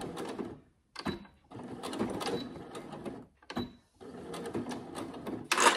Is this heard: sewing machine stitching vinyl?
yes